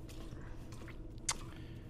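A single water drip lands in Resident Evil 2, a brief bright plink rising out of a steady low game ambience, quiet and alone.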